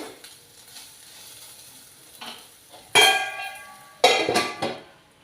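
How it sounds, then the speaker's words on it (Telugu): Ivy gourds fry with turmeric in a pan: a soft, steady sizzle, with a spoon stirring and clanking sharply against the metal pan several times toward the end. "దొండకాయలు వేగిపోయి మరొక రెండు నిమిషాల పాటు వేయించుకుంటే సరిపోతుంది"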